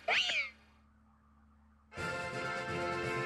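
A brief synthesized cat-like cry of the Pokémon Meowstic in the game Pokemon Y, one short sharp meow followed by quiet, then steady game music.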